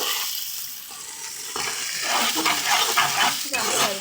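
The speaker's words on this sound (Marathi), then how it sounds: "चला आता आपण ढवळून घेऊ" Chillies and spices sizzle as a tempering is stirred in a hot pan for Maharashtrian home cooking, a steady crackling fry with scraping and clinking of the spoon that grows busier toward the end.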